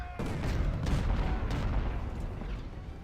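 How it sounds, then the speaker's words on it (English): Counter-battery artillery fire booms in the Civil War strategy game Ultimate General: Civil War, a dense rumble of overlapping cannon shots and blasts rolling on without talk. "Counter battery fire on that battery."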